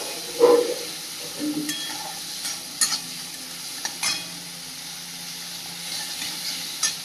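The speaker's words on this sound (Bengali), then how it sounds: "আবারও একটু ভালো করে নেড়ে চেড়ে ভেজে নেব কাঁকড়াটা" Crab being stirred and fried in a pan with a soft, steady sizzle and occasional scrapes and clinks of the spatula, quiet and close.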